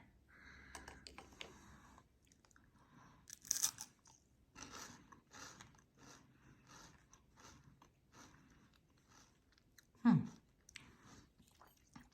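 Someone chews crunchy candy-coated chocolate almonds close up, with irregular crisp crunches and bites amid quiet pauses, and one louder crunch near the end.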